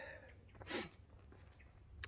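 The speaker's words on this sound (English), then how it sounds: "Currently having an absolute sneeze attack" A single sharp sneeze bursts out near the middle, close and loud, with a faint breathy sound at the end over low background rumble, on a hike up Mt Greylock on the Appalachian Trail.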